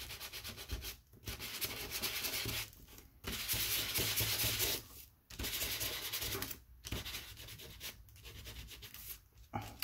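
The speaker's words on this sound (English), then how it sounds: "This is just sandpaper." Sandpaper scrubbing across a junk journal page in steady, loud, close rasping strokes, each a second or two long and separated by short pauses, with no voice.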